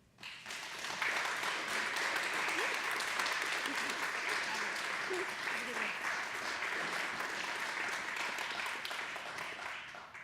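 An audience applauds to welcome a speaker at a talk, a dense, steady roar of clapping that rises quickly and holds at an even level for about ten seconds.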